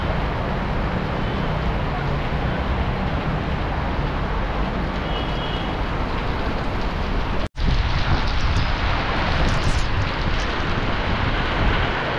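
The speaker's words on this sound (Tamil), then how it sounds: "சரியான மழை பாருங்கள், பயங்கரமாக மழை பெய்யுது." Heavy monsoon rain falling in Panjim, Goa, a loud, dense, continuous hiss and patter close by, with a brief cut partway through before the downpour resumes just as strongly.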